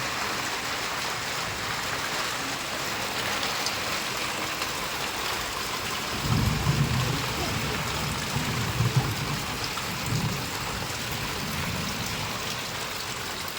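Steady heavy rain with hail hisses throughout, with a few low rumbles midway that could be distant thunder or wind gusts.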